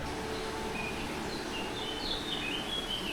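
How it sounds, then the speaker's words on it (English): Birds sing by a mountain stream in Crete, thin high chirps and short song phrases drifting faintly over a steady broadband rush of running water. "Listen to the birds."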